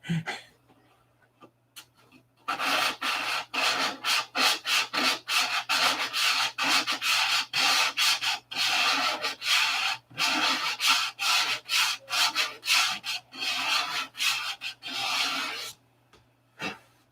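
Hand sanding of wood at a workbench: rapid back-and-forth rubbing strokes in quick bursts, close and fairly loud, with brief pauses between runs and no talking.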